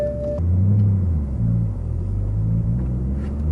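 BMW M3 E90 accelerating, its engine a loud low rumbling drone that rises and falls in pitch across a couple of gear pulls, close up with no talk.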